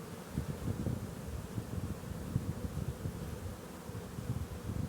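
Dense, steady buzzing of many honeybees swarming close by at an open hive, a continuous low drone with no voices.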